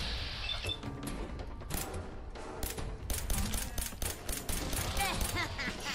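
Video game gunfire in Fallout 4: rapid sharp shots in bursts over game music and effects, growing denser toward the end, with a voice talking.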